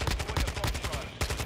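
Rapid automatic gunfire from a Kastov 545 rifle in the video game Call of Duty Modern Warfare II, loud dense bursts with a brief gap before firing resumes.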